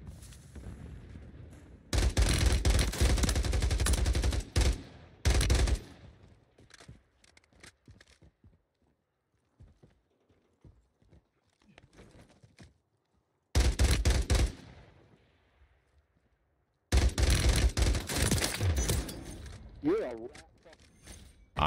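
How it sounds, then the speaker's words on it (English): Full-auto gunfire in a Warzone ranked match comes in long, loud, rapid bursts separated by quieter stretches with scattered distant shots, while voices talk over the gameplay. "Sometimes it's nice to have the full auto."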